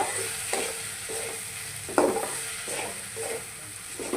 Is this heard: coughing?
no